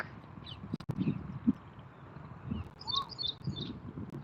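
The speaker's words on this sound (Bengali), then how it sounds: "কি সুন্দর পাখির ডাক" Faint bird calls and chirps ring out intermittently over a low outdoor rumble, a few brief whistled notes near the end.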